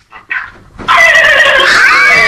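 A person on a phone call imitates a turkey, giving a loud, warbling gobble-like call over a second and a half, after a few short, softer vocal sounds.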